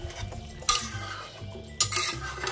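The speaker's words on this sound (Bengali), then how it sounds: "ঢাকনা খুলে খুলে 10 মিনিট অন্তর অন্তর আমি এটাকে নাড়িয়ে দেবো" A spoon scrapes and stirs mutton curry with potatoes in a covered pot, two sharp metallic clanks standing out over a low simmering bubble, no voices.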